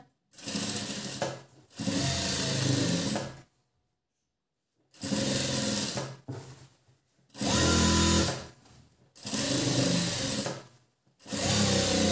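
A sewing machine runs a double seam on a blouse in loud, close bursts of rapid whirring stitching, each lasting a second or two and separated by short pauses, with no voices.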